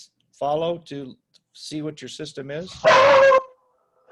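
A dog barks as the postman arrives, a short loud burst of barking-like noise following conversational speech from a person on a call.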